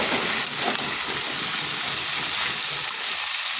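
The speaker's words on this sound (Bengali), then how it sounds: "আঁচটা স্লো টু মিডিয়াম আঁচে রেখে বেশ কিছুক্ষণ এটা কষে নিতে হবে।" Pumpkin curry with soaked chickpeas sautéing in a pan over low to medium heat, a steady close sizzle and fry hiss with faint stirring scrapes, no voices.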